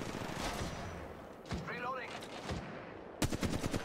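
Sniper rifle fire in the mobile shooter Apex Legends Mobile, with several sharp shots and a louder burst near the end over a busy game soundtrack.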